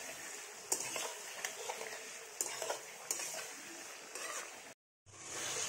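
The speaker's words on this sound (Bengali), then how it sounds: "এবারে আমি পনিরগুলো এইভাবে নাড়াচাড়া করে হালকা করে ভেজে নেব।" Paneer is stirred and lightly fried in a pan, with a soft continuous sizzle and a few sharp scrapes and taps of a spatula against the pan, ending in a brief silence before the sizzle returns.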